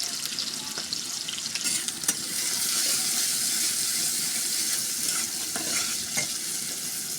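Onions, garlic and bay leaf fry in hot oil while being stirred, the base for a dried-fish bhuna, giving a steady, close, dense sizzle with scattered scraping clicks of the spoon, no voices.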